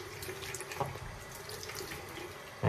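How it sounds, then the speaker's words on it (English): Water runs from a bathroom tap to rinse a razor, a steady faint splashing stream into the sink with a few brief louder spatters, close by and alone. "Okay, time for a little rinse here."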